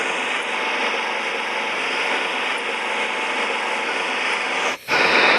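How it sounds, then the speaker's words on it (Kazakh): A steady engine drone runs nearly unbroken, loud and close, with a brief dip near the end before it resumes. "Трактор мен жақсы көремін."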